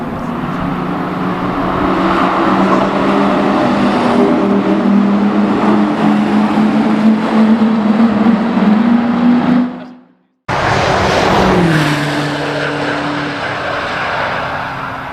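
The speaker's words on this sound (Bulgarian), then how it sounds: "В момента явно има тестване на заводски автомобили." Factory test cars race around the Nürburgring, engines droning loud and steady as one passes near with shifting pitch, then after a short gap another roars by with a falling tone.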